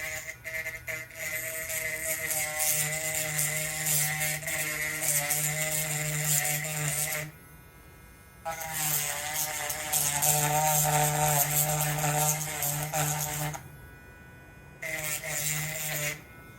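A small Dremel rotary tool working on a 3D-printed model gives a high, buzzing whine in three long runs, separated by brief pauses, steady and close.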